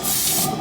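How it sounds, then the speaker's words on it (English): A short, loud hiss of an aerosol cooking spray being sprayed up close, lasting under a second. "I'm just gonna go ahead and spray this with some nonstick cooking spray."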